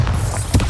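Bombarda, the explosion spell in Hogwarts Legacy, lets off a loud, close boom, one heavy blast with a sharp burst partway through and low rumble underneath.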